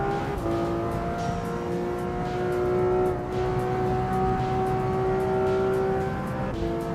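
A video game racing car engine whines steadily at high revs with DRS open, its pitch holding and shifting slightly, loud and continuous with no voices.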